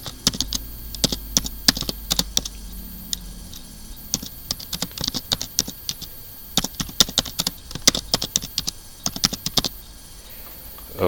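Rapid clicking of a computer keyboard as a title is typed, close and steady with brief pauses, keystrokes pattering over a faint room hum with no talking.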